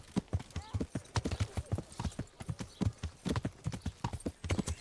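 Horse hooves clip-clopping at a steady trot while riding in Kingdom Come: Deliverance, close and rhythmic, with soft speech-like murmurs in the background.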